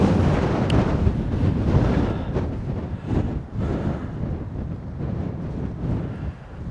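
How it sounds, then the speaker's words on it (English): Strong wind gusting across a mountainside, buffeting the microphone in a loud, close, rumbling roar that swells and dips over several seconds, with no voices. "This wind"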